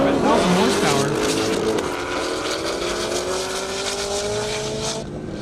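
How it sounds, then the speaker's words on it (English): Drag racing cars at an airport strip, a 2020 Mustang and a 1,000-horsepower Corvette, roaring hard with engine whine rising through the gears and some tire noise, loud and close with continuous engine sound throughout. "Michael Alexander coming up with the 2020 Mustang"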